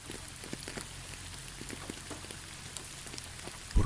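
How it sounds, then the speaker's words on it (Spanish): Steady rain falling on surfaces, a dense, even patter with scattered individual drops standing out, continuous throughout with no voices and a brief louder knock right at the end. "el sonido de la lluvia"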